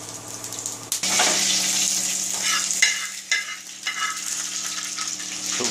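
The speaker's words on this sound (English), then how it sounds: "added some oil, vegetable oil, put some mustard seeds and red chili, some curry leaves" Mustard seeds, red chili and curry leaves hit hot vegetable oil with a sudden loud burst of sizzling, then spit and crackle unevenly as the frying continues up close, with no voices.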